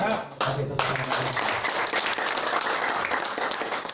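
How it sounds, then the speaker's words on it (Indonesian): Audience clapping at a seminar on passive income, a brisk round of applause from the crowd lasting a few seconds, with voices mixed in. "Oke, tepuk tangan."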